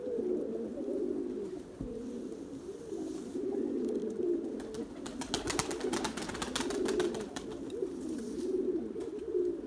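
Erzurum white breeding pigeons cooing in a loft, a steady low murmur of coos running throughout, with a burst of fluttering wingbeats in the middle.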